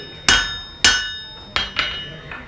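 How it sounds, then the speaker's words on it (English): Steel hammer striking a knife blade held flat on an anvil while forging the bevel, at a blacksmith demonstration in Wild West City, Netcong, New Jersey: four sharp ringing metallic blows, evenly spaced with a fifth lighter tap, close and loud with no talk. "you're holding the blade flat on the anvil and angling the hammer"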